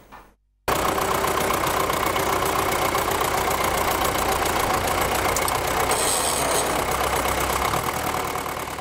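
A tractor engine runs steadily and loudly throughout, a continuous mid-to-low rumble with a faint knocking texture, starting abruptly after a brief quiet moment.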